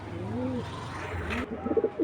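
A racing pigeon coos in soft, low, rolling notes, close by, with a brief rustle partway through.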